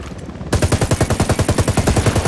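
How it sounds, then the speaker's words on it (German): Rapid, evenly spaced bursts from a Gatling gun in Ghost Recon Wildlands, starting abruptly after a brief quieter lead-in and hammering loudly and continuously to the end. "Ja, Gatling Guns."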